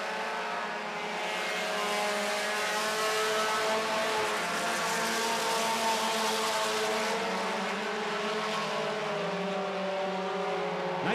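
Several 4-cylinder stock cars racing around a track, their engines blending into a steady, continuous drone at a moderate distance, with no voices over it.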